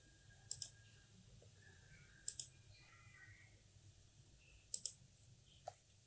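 A computer mouse clicks in quiet, sharp double clicks repeated three times at even intervals, with one softer single click near the end.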